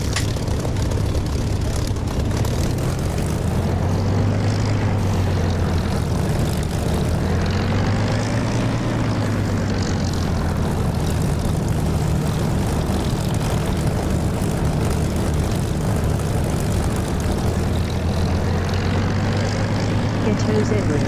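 Simulated fixed-wing aircraft engine droning loudly and steadily through a landing in the DCS flight simulator game, a constant propeller-like roar with slight pitch swells, voices talking faintly alongside.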